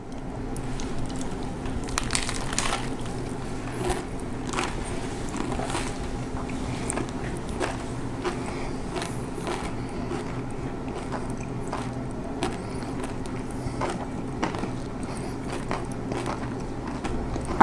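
Someone eats a sandwich of peanut butter, grape jelly and nacho cheese Doritos, with close, steady chewing and crunching throughout and small biting clicks over a faint background hum.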